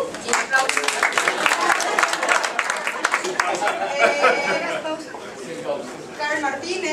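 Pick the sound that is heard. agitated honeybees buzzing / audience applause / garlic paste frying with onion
audience applause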